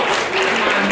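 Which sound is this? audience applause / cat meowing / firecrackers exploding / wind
audience applause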